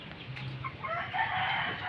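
A rooster crows once in a single drawn-out call, moderately close and somewhat faint against a low background.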